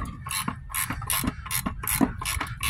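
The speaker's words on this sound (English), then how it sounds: "he's using a gear wrench up top" A gear wrench ratchets rapidly and loudly up close while loosening a part during a coilover install on an 8th-gen Honda Civic Si, the pawl clicking in steady bursts with no talk.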